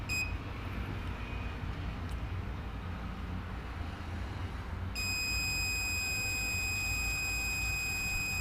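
A multimeter set to its continuity buzzer setting gives a steady electronic tone that switches on partway through and holds continuously to the end, over a constant background hum.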